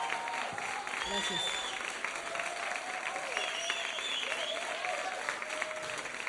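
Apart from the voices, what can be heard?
audience applause for musicians and camera operators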